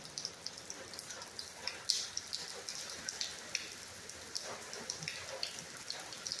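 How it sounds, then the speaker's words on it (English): Steady rain falling outside a garage, a faint continuous patter with scattered sharper drips and splashes throughout, no voices. "steady rain. I think it's going to do this quite a while."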